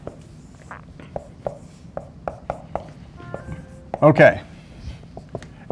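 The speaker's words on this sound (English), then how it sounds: "I'm going to write the integral down first." Pen or marker strokes tap and scratch out handwritten math in a short, regular series, with a brief spoken word and a louder burst partway through.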